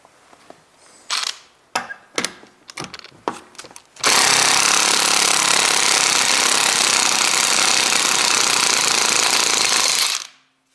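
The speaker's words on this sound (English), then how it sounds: "I try to open this socket using my excellent impact driver" A Makita 18V impact driver works on an overtightened wheel bolt: several short, sharp hammering bursts, then a loud, continuous rattling impact run lasting about six seconds before it cuts off.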